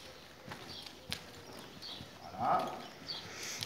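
A horse walks behind its handler during groundwork, its hooves giving faint, soft, irregular thuds against a quiet background.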